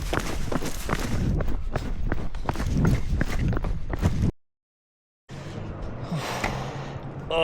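A person runs along a trail with quick, rhythmic footfalls and heavy, gasping breaths close by; the sound cuts to silence for about a second, then resumes as rougher, quieter movement.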